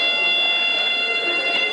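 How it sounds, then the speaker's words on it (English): A loud electronic buzzer at a beep baseball game for visually impaired children sounds a steady, continuous tone that signals the players to run for the bases. "Then that loud buzzing sound"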